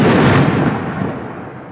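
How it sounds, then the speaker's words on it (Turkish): A bomb squad's controlled explosion of an abandoned bag sounds as one loud, close, broadband blast whose roar rumbles and slowly fades. "Kontrollü patlama!"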